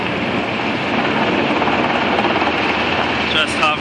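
A Blackhawk helicopter flies over downtown St. Paul, its rotor and engine roar loud, steady and close, a broad continuous wash of noise filling the whole stretch without a break.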